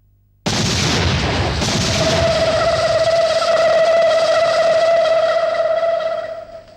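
A bomb goes off in a Tamil comedy film scene: silence breaks into a sudden loud blast, followed by a long, ringing, echoing decay that fades out over several seconds.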